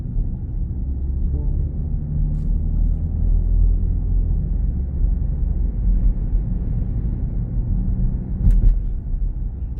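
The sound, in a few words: 2024 BMW X7 xDrive40i driving on road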